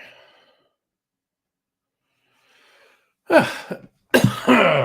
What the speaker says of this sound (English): He said, coughing up a lung.